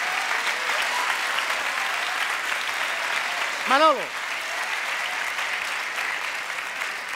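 Steady applause from a large audience runs throughout, with one short spoken word briefly heard above the clapping.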